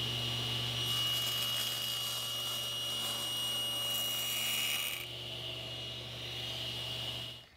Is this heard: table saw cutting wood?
yes